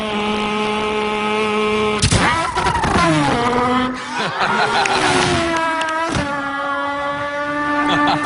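A person's voice imitating a race car engine, loud and close, with droning revs, gear-change drops and a rising, whining acceleration.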